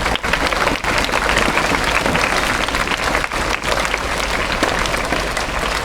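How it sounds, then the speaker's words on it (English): A school morning assembly bursts into a loud, dense round of applause for a teacher and students, many hands clapping continuously and close, with a couple of brief dips in intensity. "So big fat round of applause to Ma'am Rani and all the students."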